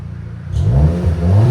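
2012 Audi TTS 2.0L turbo engine with a Vibrant resonator exhaust revving, a short loud rise in engine pitch after a brief idle, close and alone.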